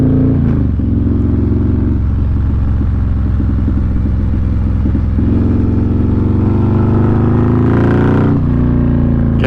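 Harley-Davidson 128 Street Glide built by Zipper's Performance at 177 horsepower, ridden through curves, its big V-twin rumbling loud and steady with lumpy pulsing, then revving hard near the end as it accelerates out of a corner.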